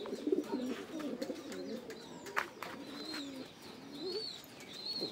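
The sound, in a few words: pigeon cooing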